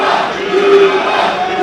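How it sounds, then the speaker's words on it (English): A wrestling crowd at Bull Studios cheers steadily for Pop Chulo, a dense, continuous roar with a sustained shouted tone rising through the middle, close and loud without pause. "listen to the crowd. They're completely behind Pop Chulo already"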